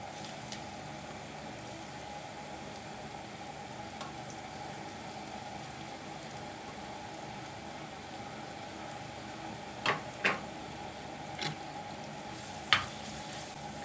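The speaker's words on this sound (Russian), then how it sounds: "Лучок поджарился. Добавляю морковку." Carrots go into onions frying in a pan while borscht is being made; a quiet, steady sizzle runs throughout, broken near the end by a few sharp clinks and taps.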